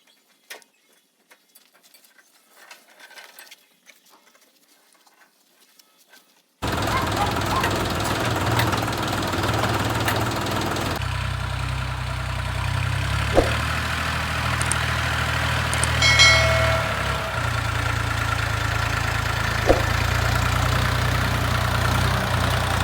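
Machine engine running while pulling a potato digger into the rows of a potato field: a steady, loud mid-pitched chugging and rumbling with some mechanical clatter, starting abruptly after a quiet opening.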